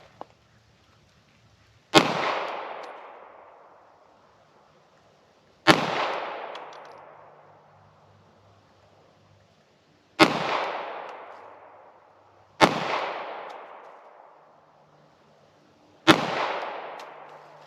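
Five 9mm pistol shots with Hornady Critical Duty ammunition fired at a range, each a sharp loud crack with a decaying ring, spaced a few seconds apart, no talk.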